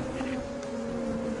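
Angry honeybees swarming over hives torn apart by a bear in Maine, a steady droning hum at close range with no voices.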